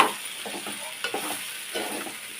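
A spoon stirs onions with chilli powder, turmeric and salt frying in a pan, giving a soft continuous sizzle broken by a few scraping knocks, close and moderately quiet.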